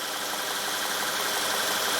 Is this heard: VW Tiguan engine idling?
yes